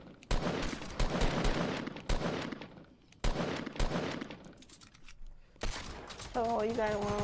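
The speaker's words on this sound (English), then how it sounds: "I think it's a hand cannon." Rapid bursts of hand cannon gunfire in the video game Fortnite, loud and close, in clustered volleys separated by short gaps, with a tonal game sound near the end.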